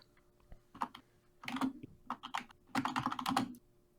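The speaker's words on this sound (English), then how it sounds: "Sorry for my keyboard" Rapid clattering keystrokes on a computer keyboard during an online game show quiz, coming in irregular bursts with short pauses, fairly close and moderately loud, with no talking over it.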